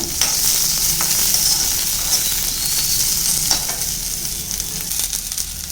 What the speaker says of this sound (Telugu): కొద్దిగా కరివేపాకు రోస్ట్గా వరకు వేయించుకుందాం